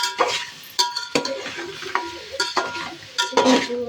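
Peas, potato and beans being stirred in a frying pan, with repeated sharp scrapes and clinks of a spoon against metal over a faint sizzle, close and irregular.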